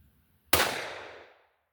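A single sharp rifle shot from a .22LR or .17 HMR cracks out loud and close after a brief quiet, then its echo trails away over about a second.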